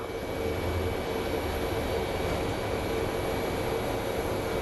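A Boeing 737 jet at Phoenix Sky Harbor airport produces a steady, fairly faint engine drone with a thin high whine, constant for a few seconds with no talk.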